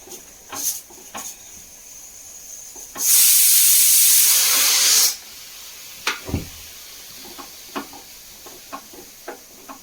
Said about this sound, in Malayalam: നാളികേരത്തിൻ്റെ പിഴിഞ്ഞതിൻ്റെ രണ്ടാം പാൽ ഒഴിച്ചു കൊടുക്കാം